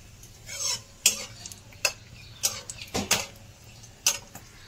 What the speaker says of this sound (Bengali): এবার ফোড়নে দিচ্ছি গরম মশলা, গোটা গরম মশলা, 2 টুকরো দারচিনি, 3টে এলাচ, লবঙ্গ